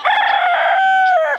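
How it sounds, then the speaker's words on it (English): A single rooster on a homestead crows one long, loud, close cock-a-doodle-doo that holds steady and trails off at the end, with no talk over it. "we got one rooster at least in here"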